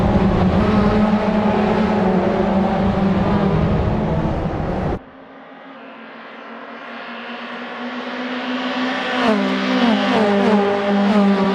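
Race cars roaring at Road America in Assetto Corsa, a loud pack of engines close by that cuts off abruptly, then a single car's engine builds back up with rising gear-change revs.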